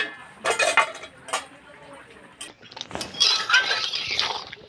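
Metal lid lifted off a cooking pot of boiling tomatoes, giving a few sharp clinks and clatters of metal on metal, close and fairly loud, with softer handling noise between.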